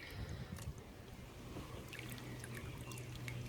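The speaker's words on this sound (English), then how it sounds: "I'll pour the water out" Water poured from a container while magnet fishing outdoors, a steady low splashing trickle running continuously for a few seconds, fairly faint against a noisy outdoor background.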